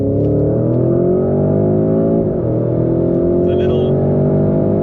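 A Porsche Cayenne in Sport Plus mode with manual gear selection accelerates hard, its engine rising in a loud, close, climbing roar, dipping briefly at a shift and then pulling upward again, with someone talking over it.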